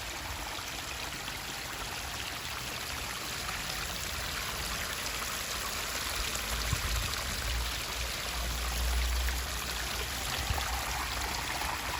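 Pondless waterfall softly trickling among stone steps, a steady gentle stream of flowing water, quiet and continuous with faint low splashes.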